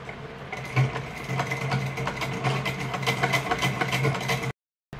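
A sewing machine runs steadily through saree fabric, a close continuous whirring hum with a fast mechanical rattle that stops abruptly near the end, no voices.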